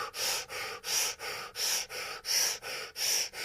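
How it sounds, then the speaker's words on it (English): Rapid, forceful fire breathing during a breathing exercise: eight or so sharp, rhythmic nasal exhales and inhales in quick succession, close and loud, with no talking. "Fire breathe again."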